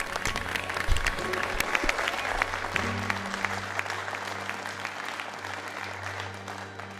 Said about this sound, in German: Und alle applaudieren und jubeln.